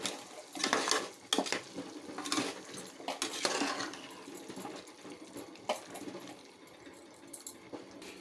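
Chicken pieces being added to a pan of masala and curd for biryani: faint wet plops, soft stirring and occasional clinks of utensils against the pan, fairly quiet and close.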